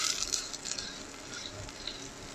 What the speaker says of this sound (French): On fait fondre le beurre. On y fait saisir notre steak haché.